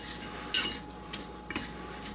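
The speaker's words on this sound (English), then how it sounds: "And I usually just use a fork" A fork stirs walnuts into packaged instant oatmeal in a small prep bowl, giving one sharp metallic clink followed by a few lighter scrapes and taps, close and quiet.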